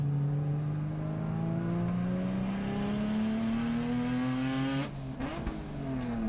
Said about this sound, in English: And I missed a gear there